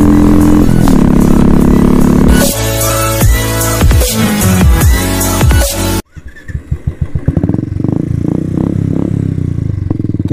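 A scooter's engine revs hard in a road race, loud and close with a sustained buzzing drone, then sharp repeated throttle bursts and clattering rises after a sudden drop.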